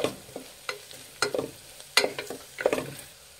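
Onions fry in a pan under repeated spoon strokes, each bringing a short burst of sizzle and scraping in an uneven rhythm, moderately close and alone.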